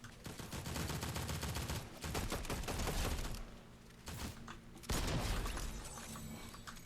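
Shotgun blasts and gunfire in Fortnite form a steady, dense barrage of loud, sharp reports with a few heavier impacts and no talking.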